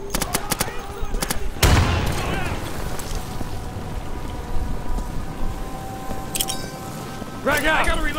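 Gunfire in the video game Insurgency: bursts of rapid shots crack at the start, then a heavy blast, with a crackling rain-like din and more shots at the end, under shouting voices.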